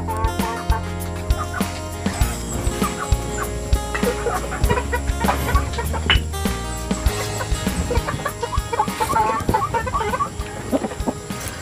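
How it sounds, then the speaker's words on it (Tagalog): Tatay Romy's flock of chickens returns home in a forest clearing, clucking and squawking busily over one another, close and continuous throughout. "Nagsiuwian na ang mga manok ni Tatay Romy."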